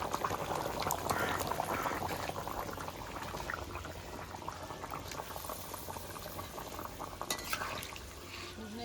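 A thin Bengali rohu fish curry simmers in a pot after water is added, giving a steady close bubbling and soft liquid burble with faint clinks, fairly quiet and without talk.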